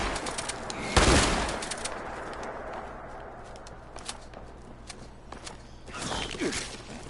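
Gunfire crackles in the Fallout 76 game world, a loud burst of shots up close followed by scattered lighter shots and footsteps, then another flurry near the end, with almost no talking.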